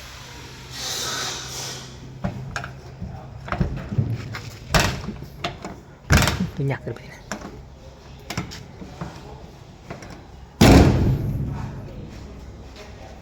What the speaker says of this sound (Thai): ปิดประตูเพิ่นก่อน